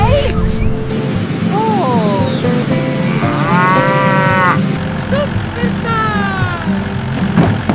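A cow on a cartoon dairy farm moos repeatedly, with several drawn-out, bending calls of varying pitch over steady background noise and music-like tones, loud and near.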